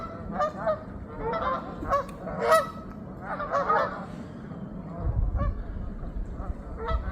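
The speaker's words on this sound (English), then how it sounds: "There are a lot of geese around" Many geese honk together near a bridge in the woods, a loud flock giving repeated overlapping honks in irregular bursts, with a low rumble of outdoor noise joining in the last couple of seconds.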